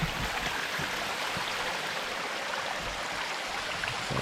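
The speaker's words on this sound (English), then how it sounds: "Even as we walk away from that one, there's this, also sort of a waterfall." A small, gradually sloping forest waterfall stream rushes continuously in a steady broadband wash, even and moderately close, with no voices.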